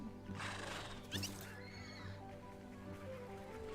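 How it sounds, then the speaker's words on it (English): A horse in a video game neighs loudly with a long whinny over steady clip-clop hoofbeats and faint background sound, with no clear speech. "Ride the horse. I already have one. I already have a golden horse."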